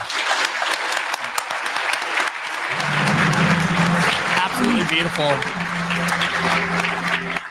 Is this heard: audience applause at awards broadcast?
yes